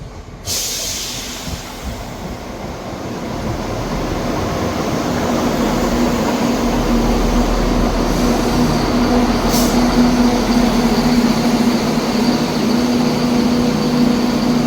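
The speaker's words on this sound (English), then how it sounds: "Departing out now is the 1534 ScotRail service from Edinburgh Waverley to Leven." A ScotRail train pulls out of Dalmeny station, its rumble building steadily from a quiet start into a loud, sustained rolling drone with a faint steady whine, close by and continuous with no talk.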